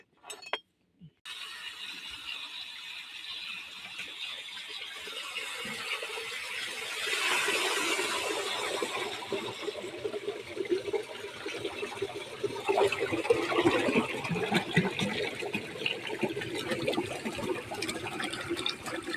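Water gushes and splashes steadily from an opened farm tank after a brief clunk, growing louder and more turbulent, with faint clinks mixed into the flow.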